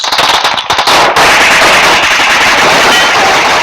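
Rapid bursts of PUBG Mobile gunfire crackle loudly at the start, followed by a dense, sustained noisy rattle of shots.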